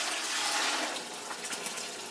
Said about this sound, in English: Now I'm going to take my water and pour it back in.